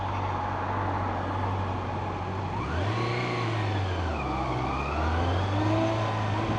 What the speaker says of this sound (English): I guess the engine feels a little bit weak